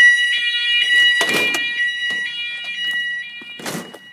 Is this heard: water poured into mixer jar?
no